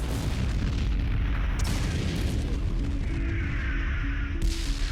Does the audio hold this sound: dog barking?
no